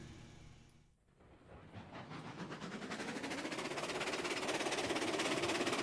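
Rhythmic steam locomotive chuffs come from the Railroads Online video game, starting faint after a brief quiet, then building into a quick, steady, hissing beat that grows louder and denser while the locomotive is under power.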